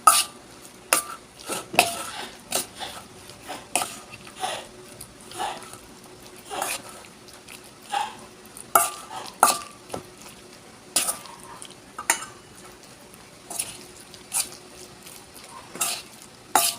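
Tiny dulong fish are tossed with flour using a utensil, making repeated scraping clinks against the bowl or pan at a steady rhythm of roughly one stroke per second, close and fairly crisp.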